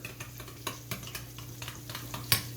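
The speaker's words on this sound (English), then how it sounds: "I take about a cup of sweet chili sauce, which has no heat at all, and give that a good stir" A cup of mild sweet chili sauce is stirred in a bowl, a string of soft scraping strokes and light utensil clicks with one sharper clink near the end, close and without speech.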